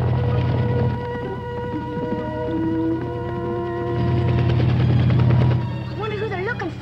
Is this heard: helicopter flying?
yes